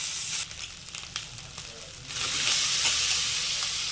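Onions fry in a pan with ginger-garlic masala for a vegetable semiya dish, a soft crackle at first that swells into a louder, steady sizzle about halfway through.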